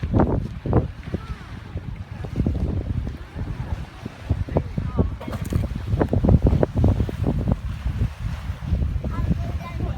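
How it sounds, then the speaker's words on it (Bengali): Gusty wind buffets the microphone in low rumbling bursts while people talk outdoors on the way to Fraser's Hill, Malaysia. "এত চমৎকার বাতাস।"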